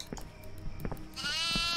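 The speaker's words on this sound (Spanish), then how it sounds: "¡Oh, una cabra! ¡Una cabra!" A goat in the horror game Devour bleats close by, a wavering bleat at the end following softer thumps and ambience, with no talking.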